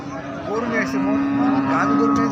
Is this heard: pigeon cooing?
no